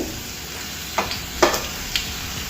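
Cut raw mango pieces drop into a hot pan and start frying, giving a steady close sizzle with a few sharp crackling bursts as they land.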